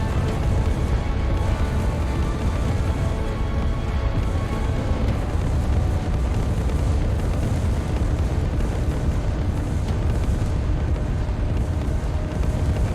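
A massed volley of RPG rocket explosions in the zombie game SwarmZ rumbles continuously, a dense, loud wall of overlapping blasts and booms with no pauses.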